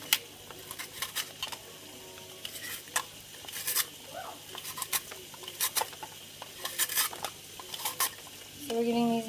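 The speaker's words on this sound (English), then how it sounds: "And I put them in the spiral and slice." Vegetables are sliced on a spiralizer into half-moon pieces for pasta e fagioli, a series of quick, crisp cutting clicks and scrapes in uneven bursts at close range.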